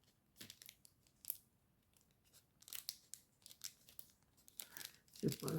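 Plastic packaging is torn and crinkled open in short, irregular rips and rustles, fairly close and moderately quiet, with brief pauses between the bursts and no talking.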